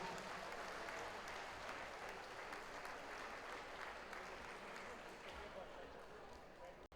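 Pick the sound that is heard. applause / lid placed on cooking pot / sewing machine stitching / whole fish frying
applause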